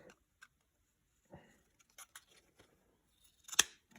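Scissors cutting material for homemade PPE, a handful of sparse, quiet snips and clicks spread out over a few seconds, ending in one sharper, louder cut.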